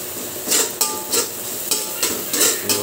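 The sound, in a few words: garlic and onion sautéing golden brown in a pan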